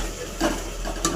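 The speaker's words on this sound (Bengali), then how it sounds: "ভালো করে নেড়ে নেড়ে এতে পুরো তেল ছেড়ে যাবে" Spices frying in oil in a pan, a steady close sizzle with a couple of brief scraping stirs of a spoon against the metal.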